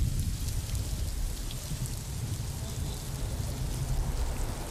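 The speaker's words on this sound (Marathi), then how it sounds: "ज्या पद्धतीने अतिमुसळधार पाऊस हा मुंबईत पडतोय" Very heavy monsoon rain pours down on Mumbai's waterlogged Hindmata area as a dense, continuous hiss of drops on surfaces, fairly soft and even, with no voices over it.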